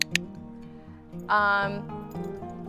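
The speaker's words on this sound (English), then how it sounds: "except for the clicking sound, which sounds like this." A sharp double click of a dog training clicker rings out at the start, followed by a low hum and a brief tonal sound.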